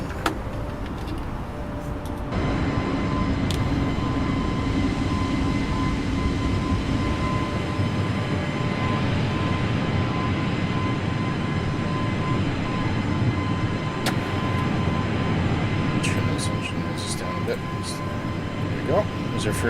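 Airbus A320 jet engines roar steadily through a takeoff departure from Sydney in a flight simulator, a sustained broadband rumble with a low drone that deepens partway through, while someone talks over it.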